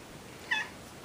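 A cat gives a single short meow, moderately close, over a steady hiss of background noise, with no talking.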